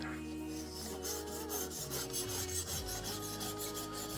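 A knife is drawn over a 400 grit sharpening stone in steady, repeated rasping strokes, close and fairly loud, with a soft scraping rhythm and no voices.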